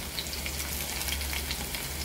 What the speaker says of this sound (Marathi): आपण थोडी परत भेंडी टाकून घ्यायची.